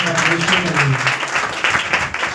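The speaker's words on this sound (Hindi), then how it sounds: "इसके लिए धन्यवाद कीजिए, ताली बजा के।" A church congregation claps in a short burst of applause while voices carry over the clapping.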